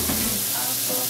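Garlic and mushrooms frying in butter in a pan, a steady, bright sizzle and crackle that carries on without a break.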